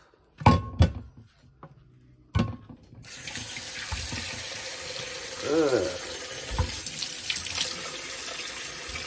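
Oxtails are rinsed under a running kitchen tap. A few thunks and clatters come first, then a steady rush of faucet water fills the sink, with splashes as the meat is handled.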